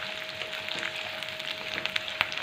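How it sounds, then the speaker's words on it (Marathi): Soaked small country chickpeas sizzle and crackle steadily in hot oil in a pan, a soft continuous frying hiss with scattered pops, close and fairly quiet with no talk. "आता हे आपल्याला तेलामध्ये छान परतून घ्यायचं आहे."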